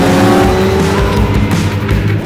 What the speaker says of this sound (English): one of the most admired cars in the sale, the 1968 Lamborghini Miura P400